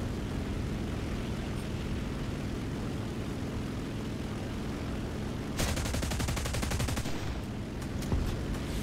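Video game gunfire aimed high over a target, rapid machine-gun bursts starting partway through over a constant engine-like roar, loud and close.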